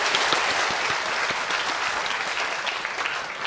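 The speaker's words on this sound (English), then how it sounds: "big round of applause for Abel." A crowd applauding steadily, dense clapping sustained throughout with no pauses, fairly close and loud.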